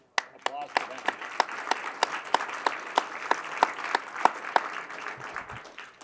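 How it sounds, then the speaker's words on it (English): An audience at a technology hackathon event applauds, a steady burst of clapping from a roomful of people with sharp, regular claps standing out near the recorder. "big applause for them"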